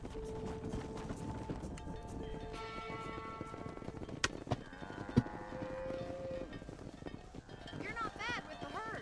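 Horse hooves clip-clop in a steady trot across Red Dead Redemption ranch ground, mixed with game music, tones and someone talking over it.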